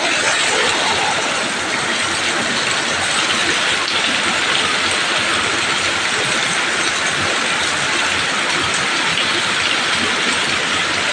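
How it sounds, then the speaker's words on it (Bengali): Heavy rain pours outside a window, a dense, loud, unbroken hiss of drops striking surfaces that holds steady from start to finish. "খুব জোর বৃষ্টি হচ্ছে"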